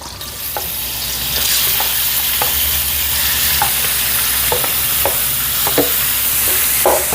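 Garlic, onion and sliced pork belly sauté in a hot pan for dinuguan, a steady loud sizzle broken by regular scraping stirs of a utensil against the pan.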